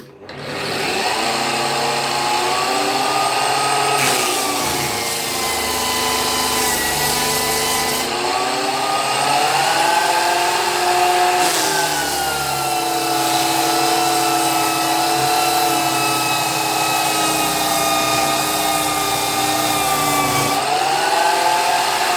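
A Parkside PDM 600 lathe spins a wooden workpiece while sandpaper is pressed against it, giving a continuous whirring motor hum with a rising and falling rubbing hiss, loud and close.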